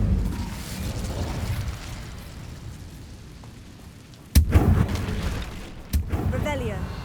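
Incendio fire spell cast in the video game Hogwarts Legacy, two sharp fiery bursts with a whooshing roar after each, over low game ambience and some speech.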